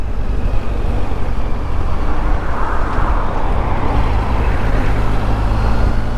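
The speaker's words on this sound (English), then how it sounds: "with this car around me here" A car drives close by amid road traffic, heard as a steady, loud broadband rumble of engine and tyre noise that holds for the whole stretch without a break.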